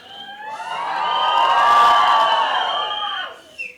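A crowd cheers and shouts at a film trailer launch event, a swelling roar with whistles and whoops that builds, peaks and fades over a few seconds.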